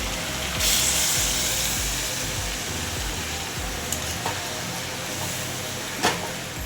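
Potatoes and water go into a sizzling chicken curry: steady loud frying hiss with stirring scrapes and a few sharp clinks and knocks of a utensil on the pot, close up, no talk.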